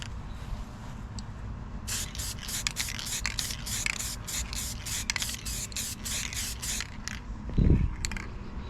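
Spray paint hisses from an aerosol can onto the spinner of an E-Flite Carbon Z Cessna 150T model plane, in a series of short, close bursts over steady background noise, ending with a brief louder knock.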